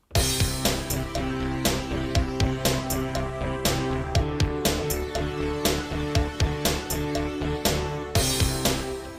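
Roland JD-Xi synthesizer playing a sequence from a cover: sustained layered chords over a steady pulsing beat with regular drum hits and cowbell, dense and continuous throughout.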